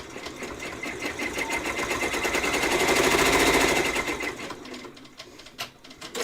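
An embroidery machine stitching, a close, loud, fast mechanical rattle that runs steadily, swells in the middle, then slows and stops into a few separate clicks, with no talking.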